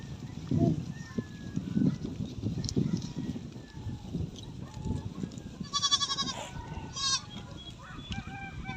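Goats bleat in short, nasal cries among steady chewing and shuffling as they are fed at a pasture, with voices talking over the animals nearby.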